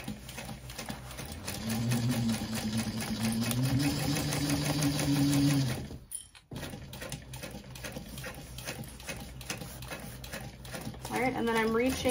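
A domestic sewing machine back stitching on a small backpack, a steady motor whir for several seconds that cuts off, followed by quieter handling noises and a brief renewed burst.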